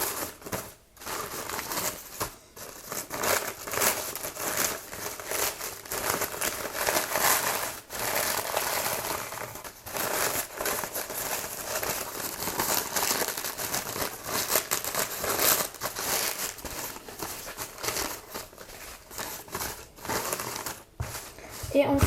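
Sheets of fragile crepe paper being opened out and fluffed by hand, a steady, close crinkling and rustling that runs continuously with brief pauses, with some quiet talk underneath.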